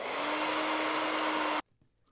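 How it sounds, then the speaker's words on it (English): A blow dryer heats a pickleball paddle grip, a steady, loud close whirring hum with a faint tone that runs for about a second and a half, then cuts off abruptly to near silence. "so I tried heating it with the blow dryer"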